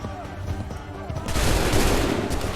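Musket volley fire in Assassin's Creed 3, a dense burst of many overlapping shots that swells into a loud, sustained crackle midway through, with background battle din underneath.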